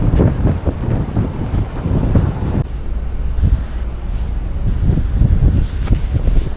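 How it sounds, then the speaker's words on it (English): Steady wind roars and buffets across the open deck of the Brittany Ferries ship Saint Malo at night, a loud continuous low rumble with gusty surges and no voices. "it's very bracing out here, and I'd certainly be in windswept."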